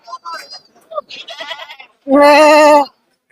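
Goats bleat at a rural goat market on a rainy day, with scattered short calls at first, then one loud, sustained, wavering bleat close by.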